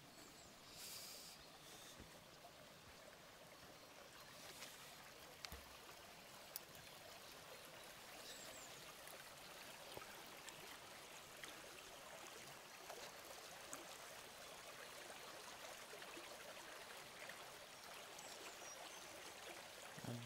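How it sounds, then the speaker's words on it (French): Small woodland stream in Lorraine, swollen by recent rain, gurgling and trickling in a steady, fairly faint rush with no voices. "La traversée du ruisseau, qui est un petit peu gonflé avec les pluies des derniers jours."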